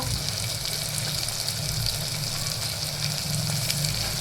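Turmeric and other spices fry in hot oil for a green bean curry, giving a constant close, loud crackling sizzle with no pauses or voices.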